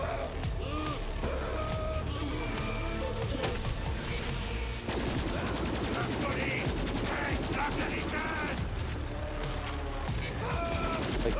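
Sustained automatic gunfire and dense volleys of shots in the looter-shooter game Borderlands 3 roar continuously, mixed with mechanical effects, while a voice talks over the action.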